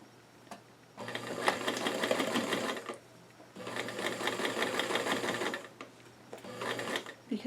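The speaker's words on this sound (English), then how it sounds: "we're going to stitch this the full presser foot width" A sewing machine stitches the hem of doll-sized jeans at full presser-foot width, in three close bursts of rapid clattering separated by short pauses.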